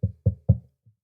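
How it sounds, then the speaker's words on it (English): Three sharp knocks on wood in quick, even succession, close and clear, followed by a faint fourth tap. "Knock on wood."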